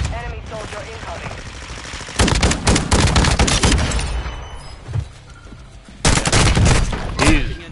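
Shotgun fire in Call of Duty Warzone comes in two loud bursts of rapid blasts, with quieter game sounds and a voice between them.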